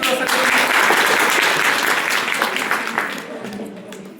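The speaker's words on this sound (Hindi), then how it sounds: "तो एक बार ताली बजा दी।" A gathered audience bursts into loud, dense applause that keeps going for a few seconds and then slowly fades.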